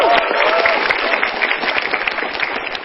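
A live crowd at a MetroTV stand-up comedy show clapping for comedian Bang Semi, a loud, sustained burst of applause that thins slightly toward the end, with faint cheering mixed in.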